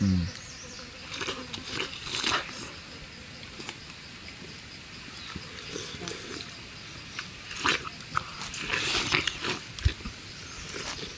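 Watermelon is eaten close to the mic, with repeated crunchy bites into the rind and wet chewing that continue throughout.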